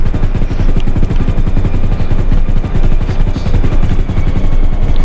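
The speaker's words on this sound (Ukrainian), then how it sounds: "Гелікоптер мене забирає." A helicopter's rotor chops loudly and close with a rapid, steady beat and a heavy engine roar, filling the whole stretch without a break.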